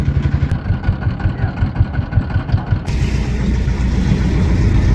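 A motor van drives along a sea beach on the Dublar Char coast, its engine chugging loudly and steadily up close, the pitch shifting partway through as it keeps running.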